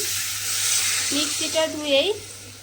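Water poured into sizzling fried spice paste for a pomfret curry, a steady loud hiss and sizzle that swells as the liquid hits the hot oil, with a voice speaking over it.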